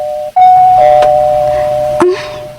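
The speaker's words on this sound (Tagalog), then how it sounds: "May nag-doorbell na." A loud electronic doorbell chime rings out, a sustained tone followed by a second, lower note, ringing clearly in a quiet room.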